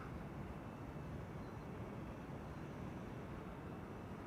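Steady, continuous low rumble of a jet airliner departing Amsterdam Schiphol Airport, heard from a distance as an even broadband roar with no talk over it.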